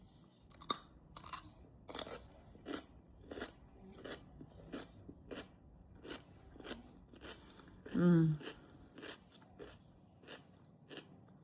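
Crunchy food chewed close to the mic, sharp crackling bites repeating at an irregular pace, with a brief low voiced sound midway and a quieter finish.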